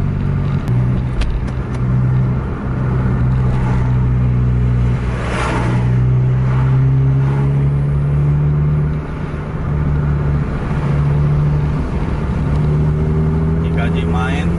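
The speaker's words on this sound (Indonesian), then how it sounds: "Udah jam 1:30 malam masih padat truk." Dense late-night road traffic with heavy trucks, a continuous low engine roar and rising whine as vehicles pass close by, some accelerating, with a voice speaking briefly over the din.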